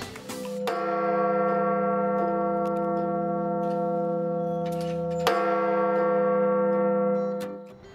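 A church bell in Valencia, struck by a mechanical hammer, sounds two loud strikes a few seconds apart, each followed by a long, steady metallic ring that fills the gaps.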